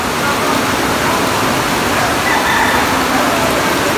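Floodwater rushes past near houses in a steady, loud, broadband roar that continues without a break, with no talking heard.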